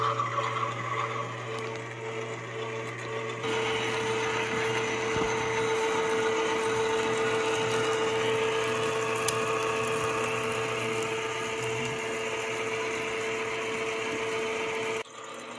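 A meat grinder runs steadily as deer meat goes through for the second time, giving a continuous loud mechanical whir and hum with a steady grinding drone and no speech.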